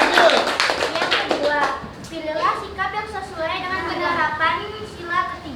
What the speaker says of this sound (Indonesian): Oke, betul. Tepuk tangan untuk kelompok 6.